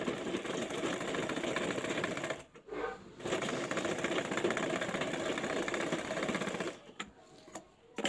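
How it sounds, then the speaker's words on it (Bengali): Sewing machine stitching the upturned waistband of a toddler's umbrella-cut skirt, a steady close whirring run broken by two brief pauses. "তো স্কার্টের যে মাথাটা আছে তার উপর আমি উল্টোভাবে বসিয়ে প্রথমে সেলাইটা করব।"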